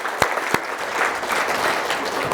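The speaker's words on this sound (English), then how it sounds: "Give yourselves a round of applause." Audience applause at a consciousness seminar talk, a steady wash of clapping from a crowd with a couple of sharp louder claps near the start, continuous and fairly close for its short span.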